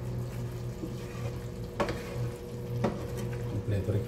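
Chili and onion leaves are stir-fried with vegetables for pakbet, giving a steady close sizzle with occasional scraping stirs of a utensil in the pan.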